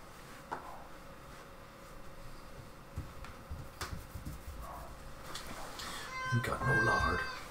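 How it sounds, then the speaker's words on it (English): A house cat meows near the end, a short rising cry amid household noise and people talking around a board game table. "You got a cat flap, you lazy cat."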